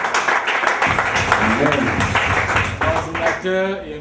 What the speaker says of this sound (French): Nous allons applaudir pour notre ministre de l'Église